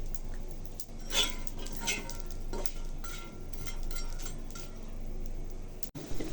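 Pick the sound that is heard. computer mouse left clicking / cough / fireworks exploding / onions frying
onions frying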